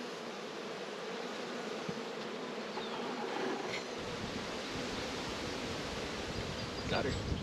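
Bees buzz in a soft, continuous hum, faint and close, like a busy hive murmuring steadily over brood comb with young bees emerging.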